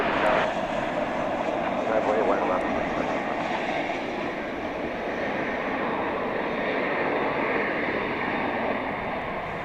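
Airplanes at DFW Airport at night produce a continuous, broad engine roar that swells slightly and then eases, steady throughout with no clear pauses.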